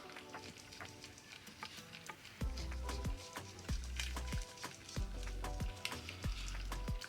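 A small tool stirs homemade teal jelly gel nail polish in a container with rhythmic, close clicking and scraping taps, about a dozen evenly paced strokes that grow louder partway through.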